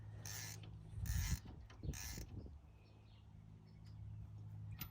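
Hand ratchet slowly turning a coolant temperature sensor on a TYM T574 tractor, giving a few close, short clicking bursts in the first half, followed by quieter mechanical handling.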